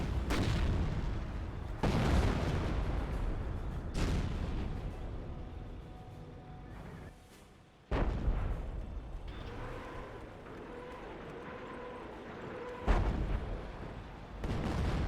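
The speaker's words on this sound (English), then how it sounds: "The barrage is running a little short or far." Artillery barrage in the World War II strategy game Company of Heroes, a series of heavy booming blasts every couple of seconds over a constant low battle rumble, with faint commentary voices underneath.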